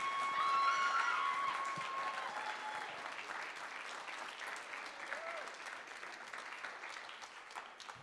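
An audience at a senior signing ceremony for students gives sustained, dense applause that gradually tapers off, with a few scattered voices and whistles mixed in.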